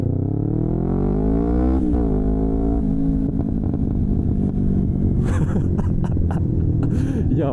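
A rebuilt Yamaha R3 motorcycle on the move, its engine rising in pitch through revs, then crackling exhaust pops and bangs burst out in quick irregular clusters under steady wind rumble.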